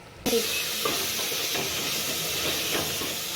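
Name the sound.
masala frying in oil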